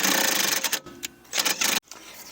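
An impact gun works a 17 mm suspension bolt on a Mitsubishi Lancer VI, rattling in loud, close bursts broken by short pauses and a final abrupt stop.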